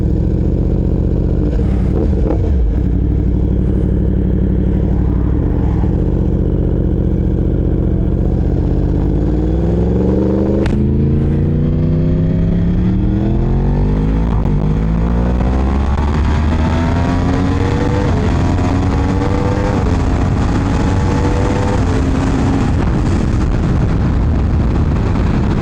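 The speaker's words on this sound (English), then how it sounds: "this CP4, man, when you get it singing up in those high RPMs" Yamaha R1 with a CP4 crossplane engine, tuned, revving hard and climbing steadily to high RPM, loud and close with rising, overlapping engine tones and no talk.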